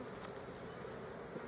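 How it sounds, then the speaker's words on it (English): Honeybees buzzing at a beehive with Amish frames, a dense continuous hum of many bees close by, steady in loudness throughout with no talk. "I accidentally squashed the bee right there"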